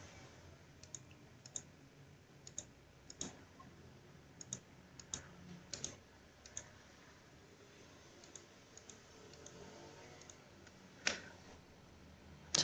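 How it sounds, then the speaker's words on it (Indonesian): Computer mouse clicks in quick double-click pairs while working in ArcGIS software, sharp and faint taps spaced irregularly over a low hum, with no talking. "Klik 2 kali"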